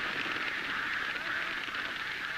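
A large flock of ducks calls overhead from a hidden duck blind, a dense, continuous wash of honking and quacking voices blending into one steady, fairly distant chorus.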